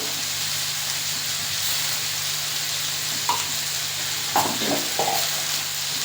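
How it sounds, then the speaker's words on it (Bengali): Green beans and potatoes fry in a pan with chili powder, salt and turmeric in a village kitchen, stirred as they cook, making a steady loud sizzle with a few sharper scraping stir sounds toward the end. "আর হলুদ দিয়ে ভালো করে সবজিটা কষে নেব।"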